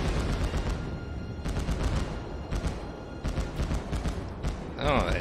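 Anti-aircraft guns on a US cruiser, the Phoenix, in World of Warships, firing as a dense, continuous rattle of rapid shots that runs through the whole stretch, with a brief tonal whine near the end.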